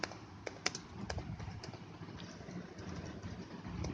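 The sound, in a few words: typing on a computer keyboard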